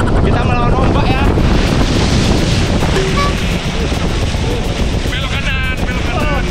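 Banana boat on the sea pushing into waves, with loud rushing wind and water splash filling the whole stretch and a few faint voices buried underneath.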